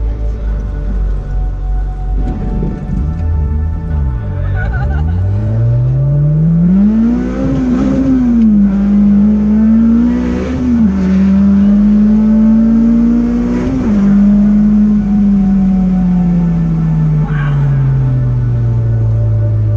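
An Acura Integra DC2 revs and accelerates on a street, its engine note loud and close, climbing and falling through several pulls before easing off into a long sustained drone.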